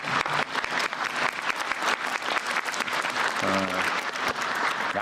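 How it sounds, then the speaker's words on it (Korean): Applause from attendees at a government public meeting on agriculture and labor ministry reports, dense continuous clapping with a faint voice near the end. "박수 한번 치세요"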